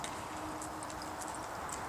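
A horse named Sir Tamm cantering in an arena, its hooves thudding in a soft, steady rolling rhythm, moderately close against a constant background hiss.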